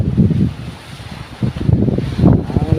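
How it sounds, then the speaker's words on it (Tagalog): Big sea waves surge and wash in rolling bursts, with wind buffeting the microphone in rough, uneven gusts; the roar swells and fades several times, loud and close. "Ang lalaki ng alon."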